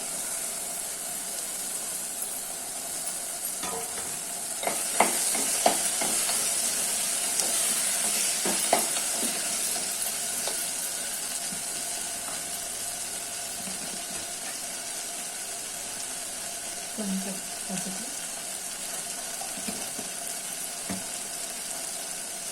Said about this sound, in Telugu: ఇప్పుడు బెండకాయ ముక్కలు వేస్తున్నాం